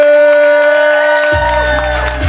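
Live poetry slam audience cheering, whooping and making noise for the next poet, a loud crowd roar with a sustained high whistle or whoop over it, then a deeper rumble of voices joining in.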